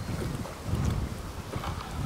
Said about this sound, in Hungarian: Nagyon föltámadt a szél délutánra